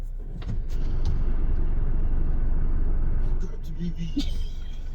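A car's low engine rumble and cabin noise fill the space steadily, with door and movement clatter near the end as someone gets in, and some talk faintly present.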